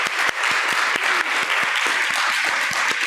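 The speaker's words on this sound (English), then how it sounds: "let's give another big round of applause for all of them" Audience applause for the speakers at a university event on healthy cities, a steady wash of many hands clapping with a few sharper near claps standing out, continuous and fairly loud throughout.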